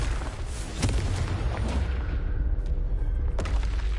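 Booming blasts from the Confringo spell in Hogwarts Legacy on PS5, a few sharp explosive hits over a rumbling low background, close and fairly loud with no talk.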